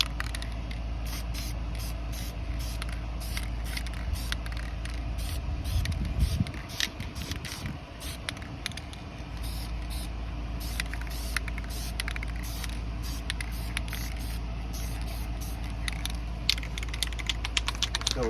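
Dupli-Color vinyl and fabric spray paint being sprayed onto a Honda CRX center console: a continuous close hiss with faint clicks and handling noises in the background, running for the whole stretch without speech.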